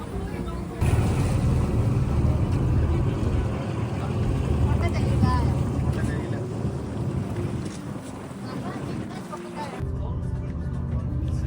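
A cruise boat on the river near Huka Falls gives a steady, loud engine rumble mixed with wind buffeting, while voices talk over it; the noise drops away sharply near the end.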